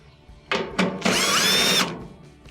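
A power driver spins out 1/4-inch screws holding the top panel of a Whirlpool dryer, giving two short whirring bursts and then a longer steady whine, close and loud.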